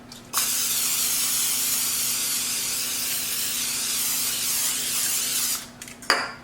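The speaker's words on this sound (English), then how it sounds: "I am going to spray at the tops of it with some more olive oil spray." Olive oil cooking spray hisses steadily for about five seconds onto food being prepared in a kitchen, close and fairly loud, with a low hum beneath and a few clicks at the start and end.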